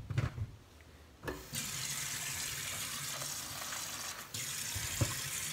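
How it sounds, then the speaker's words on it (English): A short clatter, then water runs steadily from a tap into a dog food bowl, close by, with a brief knock partway through. "Add some water to my dog's food."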